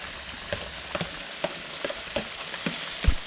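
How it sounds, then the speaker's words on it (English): Mushrooms sizzle and fry in a hot wok for jap chae (Korean glass noodle stir-fry), a steady crackle punctuated by regular clattering stirs and taps of a utensil against the pan, with no talk. "we're gonna add some mushroom now"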